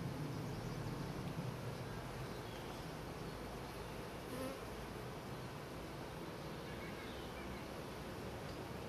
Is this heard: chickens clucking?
no